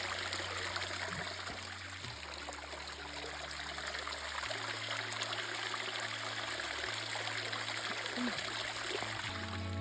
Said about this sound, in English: the water actually runs out of like a spigot